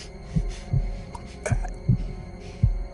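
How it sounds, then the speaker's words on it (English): A muffled heartbeat sound effect in a dramatic radio reading: dull low thumps pulse steadily in evenly spaced beats over a soft hum, with no voice during the beats. "his heart beat on with a muffled sound"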